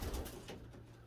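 Racing pigeons in a breeding loft, a low soft coo close by, brief and faint over quiet room noise.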